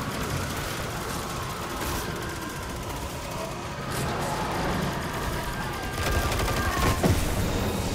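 Sustained video-game gunfire in Destiny 2, a steady dense volley of shots at even loudness, growing a little heavier toward the end with a few sharper bursts near the close.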